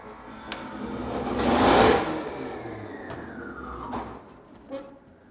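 A Lega 16/28 frame radial honey extractor running with a whirring motor hum that swells to a peak and then winds down, with a few clicks near the end.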